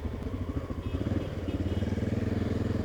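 A 1989 Honda NX650 single-cylinder motorcycle cruising through town, its engine thumping in a rhythmic, pulsing beat that grows more pronounced over the last half, fairly quiet overall.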